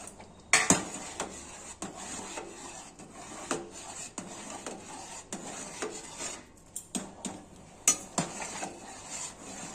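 A utensil stirs fried eggplant into khichuri in a pan, giving repeated scraping and knocking strokes at an irregular pace, close and fairly quiet.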